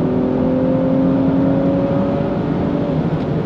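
An Audi B9 S4 accelerates hard under load, giving a steady, loud engine drone with a rising whine that stays close and continuous throughout.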